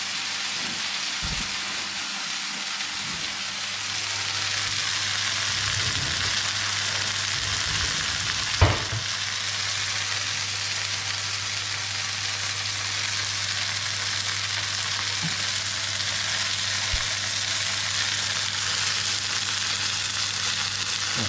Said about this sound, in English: I'm going to drop our gnocchi straight into that. Let that sizzle